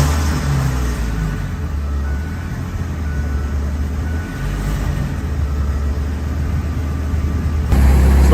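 A U-Haul open box truck with a V10 engine runs steadily close by, a low continuous rumble that holds even and then swells louder near the end.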